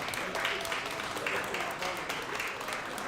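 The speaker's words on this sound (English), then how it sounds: "Can we clap it up for our captains, please?" An audience claps for volleyball team captains, with a brief, moderately loud burst of applause.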